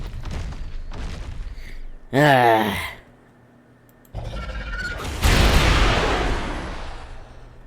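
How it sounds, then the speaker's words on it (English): Fireworks bursting in the video game ARK: Survival Ascended, several booming blasts and crackling bursts, sharp and loud, separated by gaps and a brief warbling tone, heard alone with no voices. "Oh, look at that, fireworks."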